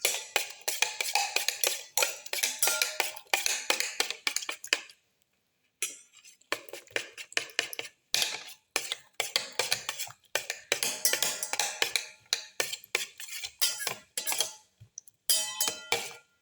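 Garlic and the other ingredients for a black pepper fenugreek leaf omelette are mixed and crushed in a bowl, a quick, rhythmic run of close utensil clinks and scrapes with a brief pause midway.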